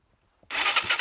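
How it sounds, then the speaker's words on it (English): A motorcycle engine fires up abruptly after half a second of near silence, then runs loud and close with a pulsing, uneven idle. "How do we start the bike?"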